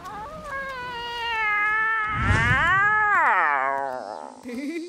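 A fat cartoon cat lets out a long, drawn-out meow that bends up and down in pitch, loud and close, with a short thump partway through and a brief sound effect at the end.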